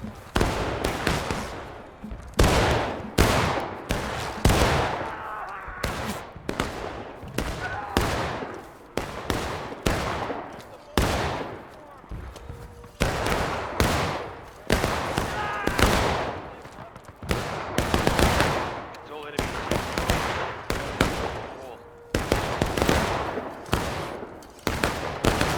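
Musket volleys crack again and again in the War of Rights battle game, with dense overlapping shots and bursts of massed fire every second or two, loud and continuous across the whole stretch.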